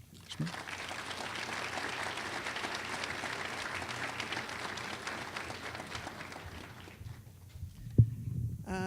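An audience at an education summit opening session applauds to welcome a speaker, a dense, steady clapping that holds for about seven seconds, then fades to room tone ending in a thump.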